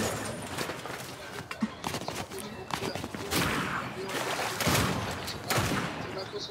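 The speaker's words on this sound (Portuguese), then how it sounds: "Mas tem tiro pra cá." Gunfire from a ranked squad match in the video game Fortnite sounds as scattered shots and short bursts, some near and some far, under steady game noise while players talk over it.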